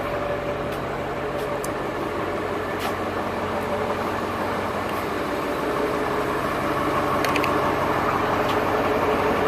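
A Ford tractor engine idles just after start-up, a loud, steady low rumble with an even mechanical throb that holds unchanged throughout.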